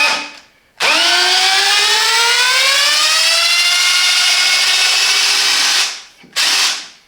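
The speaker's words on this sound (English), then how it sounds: "let's remove the screw." A Parkside PABH 20-li C3 cordless hammer drill backs out a screw: a loud motor whine that rises in pitch and holds for about five seconds, cuts off, then a short second burst.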